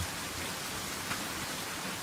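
Steady rain falls as an audio-drama sound effect, a dense, even hiss that holds at a constant level throughout with no voices over it.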